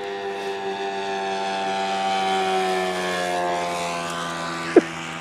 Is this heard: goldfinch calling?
no